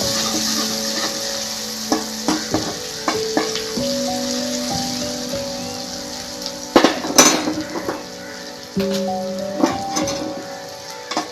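Masala with turmeric powder fries with a soft, low sizzle while a utensil stirs and knocks against the pan, giving scattered clinks and scrapes, louder near the end, with no speech.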